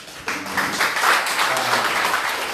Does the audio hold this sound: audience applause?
yes